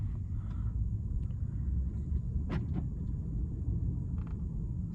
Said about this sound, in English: I'm just gonna take it out on a quick drive, hit some back roads, see how it feels and responds.